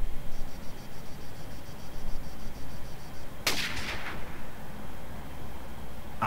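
A single sharp sniper rifle shot cracks loudly in ARMA 3, cutting through a quiet outdoor ambience of chirping insects and ending in a short echoing tail, with no voices.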